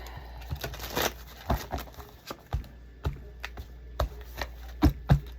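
Tarot cards are shuffled up close in a quiet room. Irregular soft slaps and riffling taps come in small bursts over several seconds, with no talk.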